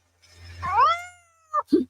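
A cat gives one clear, rising-and-falling meow up close, followed by two short chirping mews, with no talk over it.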